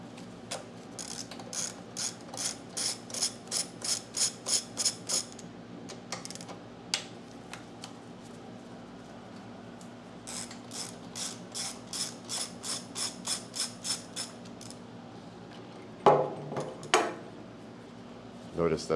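Ratchet fitted with a 10mm socket backing out the air box bolts on a Ryobi pressure washer, heard as quick bursts of rapid close clicking in two long runs, then a louder clunk near the end, over a steady low engine-like hum.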